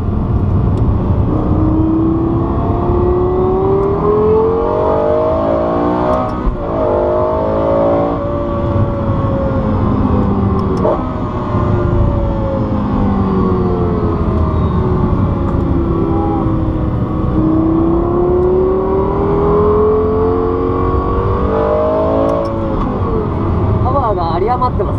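Lexus LFA V10 engine on a circuit during a track day, rising and falling through the revs continuously and loudly from inside the cabin, with occupants talking over it.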